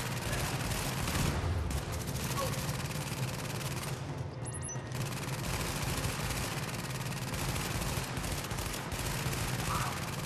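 Rapid automatic gunfire rattles almost continuously in a firefight in Tom Clancy's The Division at the WarrenGate Power Plant, dense and close, with only a brief lull partway through.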